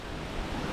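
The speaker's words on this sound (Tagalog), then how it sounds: "Ayun, ang lakas ng tubig dun, oh." Rushing water at Edraline Falls gives a steady, dense roar of broadband noise with no breaks, loud and continuous throughout.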